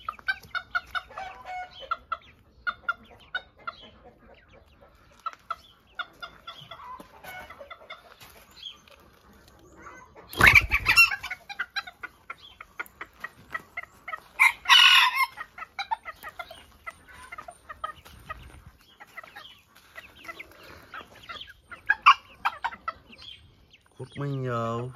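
Ornamental chickens and a rooster cluck repeatedly in a garden, with sharp louder squawks and brief wing flapping. A voice talks intermittently beneath the bird calls.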